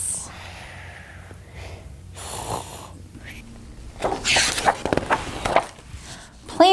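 A voice imitates loud snoring during a children's story reading, with rough snorting breaths growing louder toward the end, under and between some talk.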